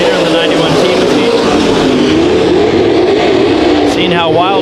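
Race cars at a Bakersfield Speedway restart roar loudly and continuously, engines revving with a pass-by sweep near the end, while an announcer talks over the racket.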